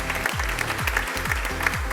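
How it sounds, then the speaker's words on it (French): A studio audience applauds a star entertainer being introduced on a TV show. The clapping runs evenly over a pulsing music bed with a regular booming beat, at a moderate level. "Veuillez applaudir."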